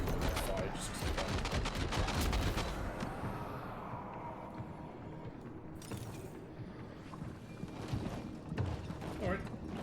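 Gunfire in Death Stranding 2, with a rapid cluster of loud, close shots in the first few seconds, then rumbling and mechanical noise as the action carries on.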